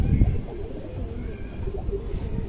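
Indian high-flyer pigeons of the kaldom type coo up close in a low, throaty rolling murmur that continues through the whole stretch, with no talk over it.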